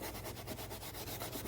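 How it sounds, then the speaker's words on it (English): Close, steady hand sanding on a leather boot, a dense rhythmic scratchy rubbing with quick regular strokes. "do some hand sanding for a little bit"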